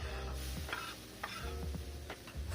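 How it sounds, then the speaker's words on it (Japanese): Finely chopped onion sautés in butter in a pan for a shiraz-style Shaliapin steak, a steady close sizzle broken by a few soft stirring scrapes, with no voices. "はじめに玉ねぎのみじん切りをバターでソテーしていきます。"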